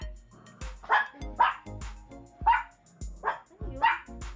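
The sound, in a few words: dogs barking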